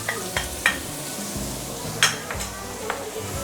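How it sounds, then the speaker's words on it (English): Garlic, ginger and salted black beans sauté in a pan, giving a soft continuous sizzle. Scattered scraping stirs and light clinks from a utensil run over it. "We're going to saute the garlic, ginger, salted black bean, taucu,"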